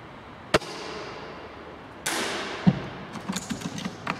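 A Well MB4410 airsoft sniper rifle fires at a target about 60 metres off: a sharp single crack, then a bolt-action clack and a longer mechanical rattle of cycling and handling close by, with no talk.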